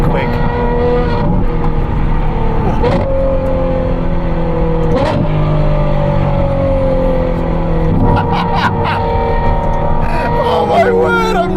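Ferrari 812 V12 accelerating hard, its loud engine note climbing through rising revs with quick gear shifts, heard from inside the car as a voice talks over it.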